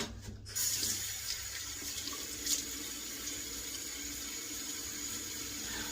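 Tap water runs into a sink to wet a face before shaving, a steady, close hiss and splash that holds evenly after a brief pause at the start.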